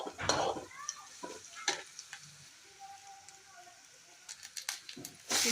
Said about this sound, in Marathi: ते छान परतल्यानंतर त्यामध्ये चिरलेली मेथीची भाजी परतून घेतली